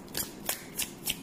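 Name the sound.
tarot cards being shuffled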